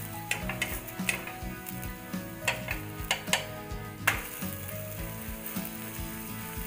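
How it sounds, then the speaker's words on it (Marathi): Thalipeeth, a flatbread made from soaked poha, frying in oil on a pan, a soft steady sizzle broken by scattered sharp clicks and taps from a spatula, close and fairly quiet. "आता आपण थालीपीठची दुसरी बाजूही यावरही आपण तेल सोडून घेऊया"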